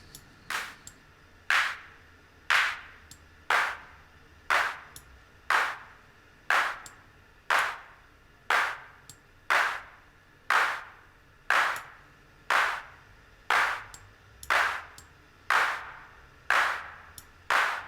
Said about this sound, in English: the clap sound.